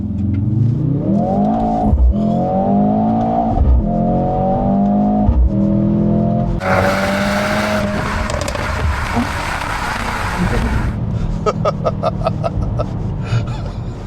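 A 2025 Mercedes-AMG GLC 63 S E-Performance, a 671 hp four-cylinder hybrid SUV in Sport Plus mode, launches from standstill. A loud engine climbs through rising, stepped gear changes, then a roaring rush at speed, with a voice or gasp underneath.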